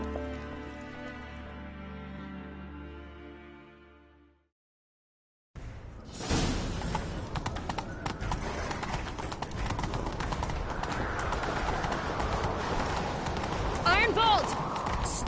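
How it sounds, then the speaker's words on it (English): Horse galloping in The Witcher video game, a steady rapid clip-clop of hooves under game music and ambience after a brief silence, with a voice talking over it. "Grab a horse, we'll chase him down"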